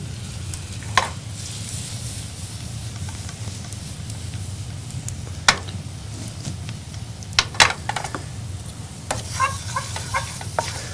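A butter and flour roux cooks in a pan while being stirred, giving a steady low sizzle with occasional scraping taps and clicks from the utensil.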